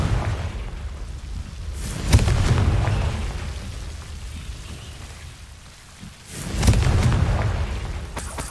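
Fire spell explosion cast in Hogwarts Legacy: two loud booming bursts a few seconds apart, each a broad crackling blast that rolls off into a noisy rumble, with no talking.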